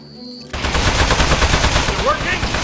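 Sustained rapid gunfire in the Aperture Desk Job game, loud and continuous after a brief quiet start, aimed at a metal enemy, with a couple of rising electronic chirps near the end.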